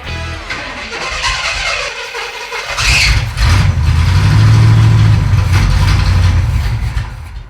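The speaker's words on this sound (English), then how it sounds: "right now we're gonna crank it and see if we can get our mechanical fuel pump to suck gas out of our jug into our fuel filter" A 1937 Pontiac engine cranks over loudly with a mechanical fuel pump, the starter whirring briefly before a louder, steady churning drone that runs for several seconds and then eases off.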